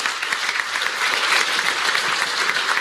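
Audience applause at a press conference, a steady, dense clapping from a crowd sustained for about three seconds, fairly loud and close with no voices over it.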